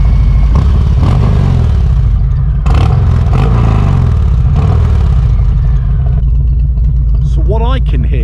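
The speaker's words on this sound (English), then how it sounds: "Let me just switch on the engine" A Harley-Davidson motorcycle engine started up and left running outdoors near trees, a loud steady low rumble throughout with a faint squeal near the end.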